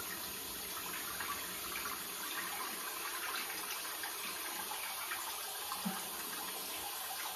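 A bathroom tap runs steadily while a face is washed with cleanser, a constant close hiss of flowing water with small splashes, no talking.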